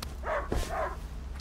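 A dog named Leon gives a couple of quick, close barks in the A Plague Tale: Innocence game, a short double yelp over low background rumble.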